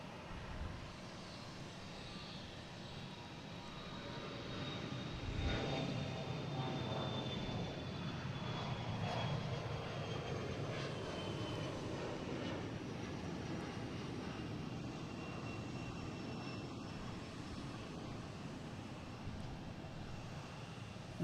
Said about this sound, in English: That was a Bombardier Challenger heading to Naples